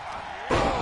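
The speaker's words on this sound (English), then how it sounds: "Boom, running STO plants him." A running STO slam lands with a sudden heavy thud in the WWE 2K24 wrestling video game, cutting in sharply against quieter background noise.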